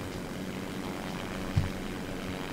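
A steady broad engine roar of a propeller aircraft flyby in the video game Simple Planes drones throughout, constant and fairly loud, with a brief thump midway.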